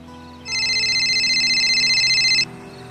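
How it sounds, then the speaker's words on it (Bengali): An electronic phone ring from an unknown number trills loudly for about two seconds in a rapid warbling pattern, then stops abruptly over a faint background hum. "ঠিক তখনই একটা ফোন এলো।"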